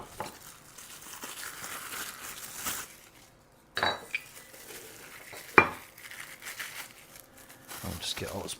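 Plastic packaging being handled while unpacking plastic cups for a bubble tea shaker machine, with crinkling and rustling, a few sharp clatters of cups, and a person talking intermittently throughout.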